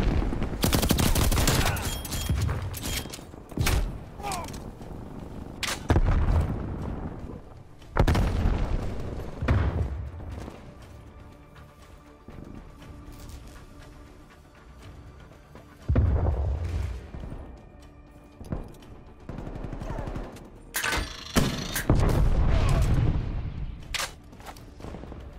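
Sentry turret gunfire in Call of Duty: Black Ops Cold War comes in loud bursts of rapid automatic fire and booms, with quieter stretches between volleys, close and harsh, and no talking.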